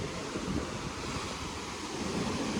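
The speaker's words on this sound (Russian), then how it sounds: "Вон он, океан, бушует." Ocean waves surge against the rocky volcanic coast of Lanzarote in the Canary Islands, a steady, loud roar of surf mixed with wind buffeting the microphone, with no voices.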